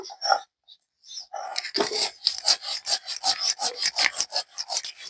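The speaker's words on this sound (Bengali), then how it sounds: "সঙ্গে আমি স্বাদ মতো নুন দিয়ে নেবো এরপর আর একটা কাঁচামরিচ দিয়ে একসঙ্গে বেটে নেব" Taro paste with salt and green chili is ground by hand in quick, rhythmic rasping strokes, up close. A few scattered scrapes come first, then the rubbing becomes a steady beat, with no talking.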